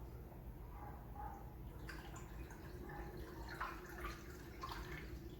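Motor oil pours into the engine of a 2005–2009 Ford Mustang GT during an oil change, a steady soft liquid stream under faint background hum, close and quiet.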